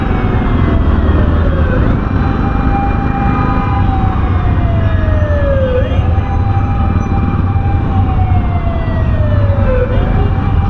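An ambulance siren wails in steady falling sweeps somewhere ahead in busy city traffic, heard over the continuous rumble of a motorbike ride and road noise.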